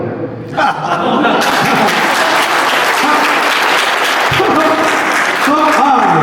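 An audience at an indoor leadership meeting in Mandarmani, West Bengal bursts into loud, sustained applause that swells after a brief quiet start and keeps going steadily to the end.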